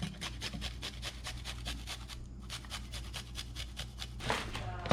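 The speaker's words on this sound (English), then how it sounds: "So we have some garlic here. I'm going to grate it." Garlic scraped over a grater at a beach gathering gives a steady run of short raspy strokes in a regular back-and-forth rhythm, close and fairly quiet.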